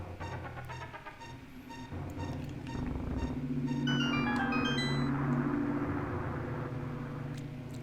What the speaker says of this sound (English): Why are people's cars so loud?